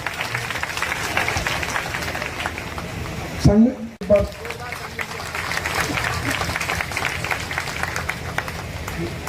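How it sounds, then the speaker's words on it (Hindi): Applause from a crowd honouring a newspaper editor at a public gathering in Jamshedpur, a steady dense clapping that fills the space, with a brief louder burst partway through. "एक बार जोरदार ताली से उनका सम्मान करें।"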